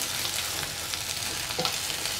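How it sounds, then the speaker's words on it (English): Chilli taro root (colocasia) being stirred and mixed with its ingredients in a hot pan gives a continuous close sizzle of frying, with the soft scrape of stirring. "Sort and mix so that all the ingredients are nicely"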